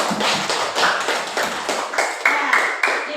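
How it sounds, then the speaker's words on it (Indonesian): Students in a classroom clap together in a fairly loud, dense burst of applause that carries on for a few seconds, with a few sharper individual claps standing out toward the end. "Iya, terima kasih dulu, tepuk tangan dulu."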